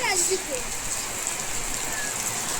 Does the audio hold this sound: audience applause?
no